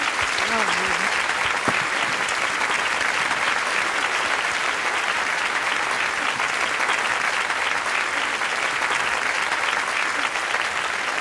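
Sustained, dense applause from a concert audience for pianist Khatia Buniatishvili, loud and steady throughout with a brief voice near the start.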